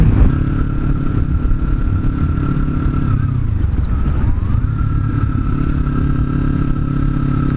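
A motorcycle is ridden on its first outing of the year, with a loud, steady engine roar close to the listener and a dip in revs at a gear change around the middle before the drone settles again.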